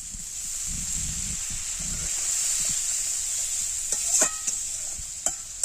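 Steady, bright sizzling from a pan as a little water goes in while cooking an eggplant dish with chili powder, continuous hiss with a few soft stirring knocks near the end.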